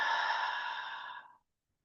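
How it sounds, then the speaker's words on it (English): A slow, breathy exhalation during a guided prayer meditation, a soft airy sigh that gradually fades out into silence after about a second and a half. "and breathing out"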